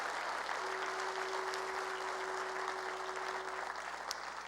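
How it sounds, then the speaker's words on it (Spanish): A church congregation applauds during a sermon, a dense, sustained wash of clapping from many hands that keeps an even loudness throughout, with a faint held tone underneath. "Dale más fuerte ese aplauso al Rey"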